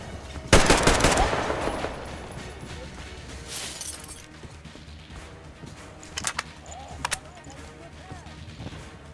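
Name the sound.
gunfire in video game Metro Exodus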